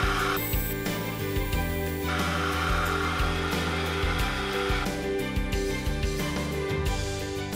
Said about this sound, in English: I cut a couple of slits in the brackets to make retaining tabs.